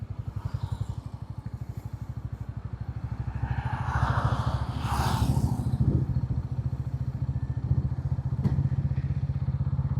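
A 160cc city motorcycle under way, its engine giving a steady, close, loud low thrum that swells as power builds midway, with wind rush and small rattles riding over it, no voices.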